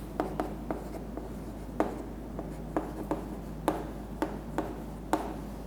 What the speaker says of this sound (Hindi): डायरेक्ट में लिखता हूं